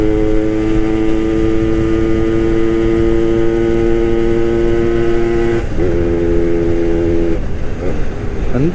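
A Suzuki Max 100 motorcycle engine runs steadily while riding, with a loud, even, droning tone that shifts pitch slightly as the bike changes speed near the end.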